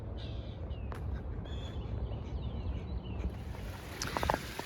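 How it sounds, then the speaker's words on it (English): Birds chirp and whistle in thin, scattered calls over a steady low rumble of wind and water, with a brief flurry of sharper chirps near the end. "All the music that I hear, the birds chirping."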